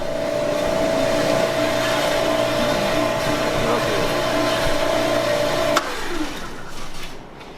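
A blender purees papaya for jam, a steady, loud whirring motor drone that holds for several seconds before cutting off and winding down.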